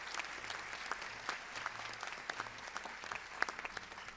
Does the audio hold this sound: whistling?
no